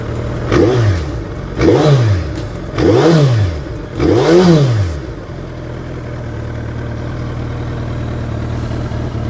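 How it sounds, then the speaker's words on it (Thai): A 2011 Suzuki Hayabusa GSX1300R engine revs hard four times in quick succession, each exhaust burst rising and falling, then settles into a steady low idle in neutral. "เสียงท่อเพอ ๆ เลยนะครับ"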